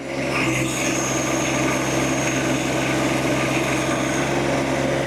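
A John Deere 1025R compact tractor engine runs at 2,500 RPM, giving a steady, loud, close-up drone that holds an even level throughout with no pauses.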